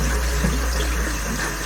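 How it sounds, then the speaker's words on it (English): Water pours steadily from a tap, a close, even rush with no pauses over a short stretch. "That tap was a bit cold."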